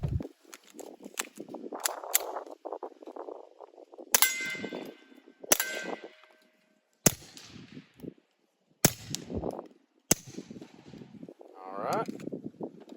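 A suppressed Beretta 71 fires Fiocchi Performance Shooting Dynamics .22 long subsonic rounds: about five sharp, clanging shots spaced a second or two apart, with someone talking between them.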